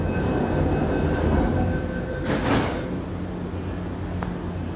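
An MTR Tuen Ma line C-train metro runs between Tai Wai and Sha Tin Wai, giving a continuous loud rolling rumble with a steady motor whine and a brief hiss of rushing air midway.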